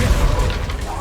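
A spell blast in the Hogwarts Legacy video game: a dense, continuous low rumbling boom with crackling explosive texture that fills the whole moment, with voices mixed in.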